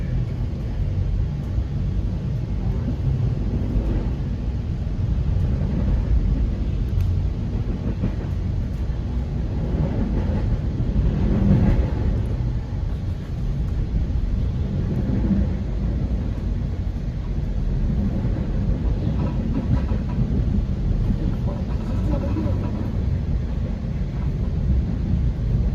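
A VRE commuter train rolls along the CSX RF&P line at slow speed near Quantico, giving a steady low rumble and wheel-on-rail drone throughout, with faint clicks and no talking.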